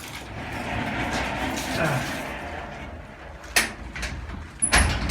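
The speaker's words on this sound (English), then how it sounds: "Let me shut the door." A sliding door rolls along its track and shuts with a couple of sharp knocks, close by, over a background of heavy rain noise, in a workshop restoring a 1964 Mk1 Mini.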